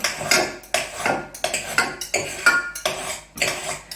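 Leftover Thai pastry dough being cut in a tart mould, a series of about eight sharp, close clacks of utensil against the dish at an irregular rhythm, with no talk.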